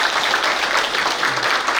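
Loud, dense clapping from the audience at a residents' meeting about a public housing district, a brief continuous burst of applause close by with no talk over it.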